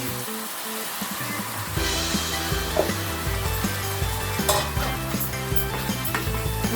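Tomatoes sizzle and fry in a pan for a cauliflower curry, a steady hiss that swells louder after a couple of seconds, with scraping stirs and occasional clinks of a spoon against the pan.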